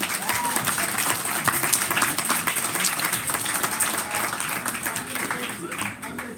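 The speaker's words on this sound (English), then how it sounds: "Okay, another round of applause for Anna." A concert audience applauds a high school jazz band performance with sustained, dense clapping that holds steady across the whole stretch and eases slightly near the end.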